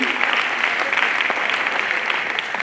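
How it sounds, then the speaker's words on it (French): Dense, continuous applause from a festival audience after a call for loud clapping, steady and close throughout. "Et c'est le savoir-faire artistique qui doit être nourri par des applaudissements"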